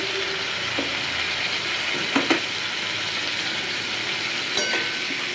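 Cumin powder and chili powder stirred and fried in a pan, giving a soft, continuous hiss broken by a few brief clanks of the spoon against the pan.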